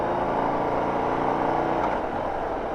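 A 2025 Harley-Davidson Street Bob motorcycle runs steadily under load in a continuous engine drone with no voices; the exact gear shift cannot be picked out.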